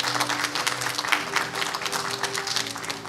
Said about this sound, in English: let's give her a congratulatory round of applause